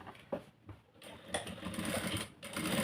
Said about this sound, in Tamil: ஃபோல்ட் பண்ணிவிட்டு அதையும் ஸ்டிச் பண்ணி எடுத்துக்கணும்